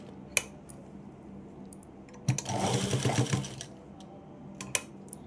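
A sewing machine stitches buttonholes on a blouse in one short whirring burst midway, with a few sharp clicks before and after, close and fairly quiet.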